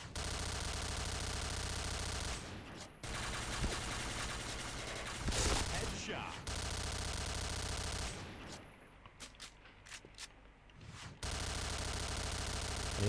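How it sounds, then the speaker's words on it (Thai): Rapid machine gun bursts from the online shooter Point Blank, played with a Razer DeathAdder mouse macro, fired in long sustained volleys that break off briefly between them, loud and close, with no talking. "โอ้ยเสียงยิง"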